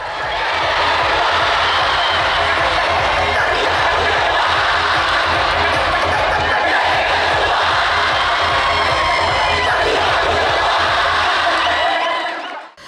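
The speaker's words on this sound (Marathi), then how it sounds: "विजयानंतर जुना बुधवारच्या खेळाडूंसह समर्थकांनी मैदानावर प्रचंड जल्लोष केला।" Football supporters roar and whoop on the ground after a local tournament final win, a dense, loud crowd cheer sustained for the whole stretch before cutting off abruptly at the end.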